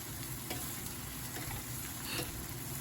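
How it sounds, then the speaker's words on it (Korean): Water dropwort (minari) stir-fried in garlic oil with a soy and oyster sauce base, a steady close sizzle with soft scraping stirs and light ticks of the pan throughout. "그 다음에 이제 만들어낸 소스 붓고 볶아주면 뭐 완성입니다."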